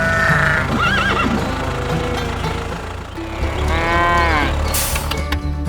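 A bull lows loudly among a mix of farm animal calls, with horse whinnies and clopping hooves around it in a continuous dense scene, no talking.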